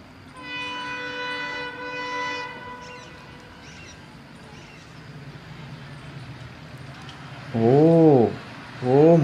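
An Indian Railways locomotive sounds a loud, steady horn blast for about two seconds, followed by a low rumbling background and then shorter, rising-and-falling tonal bursts near the end.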